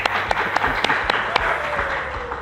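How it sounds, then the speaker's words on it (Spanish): Applause at a church gathering, a steady wash of clapping with a few sharper individual claps standing out, fairly close and without talk over it. "Dale un fuerte aplauso."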